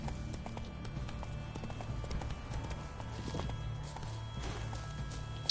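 Geralt's horse Roach gallops in The Witcher 3, a steady run of hoofbeats over a dense game soundscape with music and ambience, never stopping and sitting at an even, moderately loud level.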